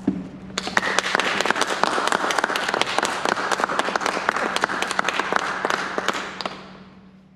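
A church congregation claps to welcome new members at a worship service, a loud burst of many hands with distinct sharp claps that starts abruptly, holds steady for several seconds and then fades out, over a faint low hum.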